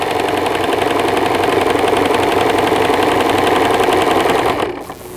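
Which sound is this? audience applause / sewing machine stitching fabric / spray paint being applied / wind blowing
sewing machine stitching fabric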